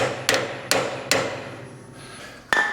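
A hammer pounds on a stuck sickle bar pin of a 1958 Ford 851 tractor, four sharp metallic strikes at uneven intervals, close and alone.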